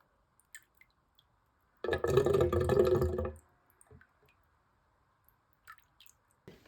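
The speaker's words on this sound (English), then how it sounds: "we have some kind of pulsing phenomena when we really empty the last of water" Water pulsing and gurgling out of a hydrophore pressure tank as the last drinking water drains, a wet squishing burst of about a second and a half followed by a few faint drips in near silence.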